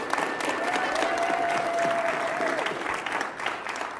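Sustained applause from a conference audience for the year's speakers, steady and full for several seconds with a faint whistle and murmuring voices underneath before it begins to taper.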